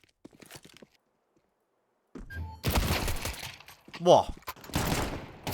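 Automatic AK rifle fire in a video game crackles in sharp, rapid bursts after a quiet opening, with a player briefly exclaiming between the shots.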